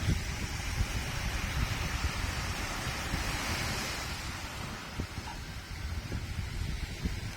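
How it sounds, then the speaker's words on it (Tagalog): Surf washes steadily onto a sandy shore at Cagpinilipig, Tinambac, Camarines Sur, a broad continuous rush of waves with some wind noise over the microphone. "maririnig mo hampas ng alon sa buhangin"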